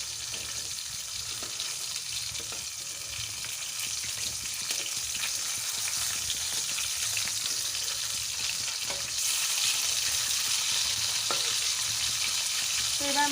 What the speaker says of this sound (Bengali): তো এবার মাছের উল্টো সাইডটা ভালো করে ভাজা অবধি অপেক্ষা করতে হবে।